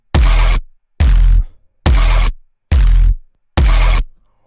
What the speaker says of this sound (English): this sound, which is just like a distorted sub bass